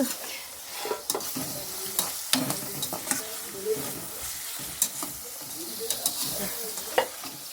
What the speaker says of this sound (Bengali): এই যে আমি ভাজাভাজি করছি এখন